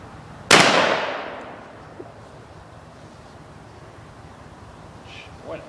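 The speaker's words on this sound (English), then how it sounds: "gonna shoot these fire extinguishers." A shotgun fires once at a fire extinguisher outdoors, giving a loud sharp blast that rings and decays over about a second, followed by quiet background and a faint later clank.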